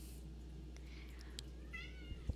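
Cat meows in the video game Final Fantasy XIV: a few short, faint mews near the end of a quiet stretch, with soft game ambience beneath and no talking.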